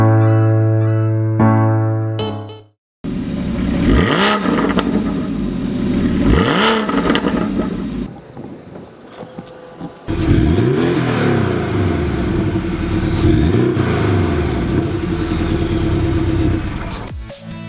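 A Porsche 718 Boxster flat-four engine revs up and down in loud repeated surges, rising sweeps of engine pitch about every two to three seconds, with a short drop near the start and strong close-up revving throughout.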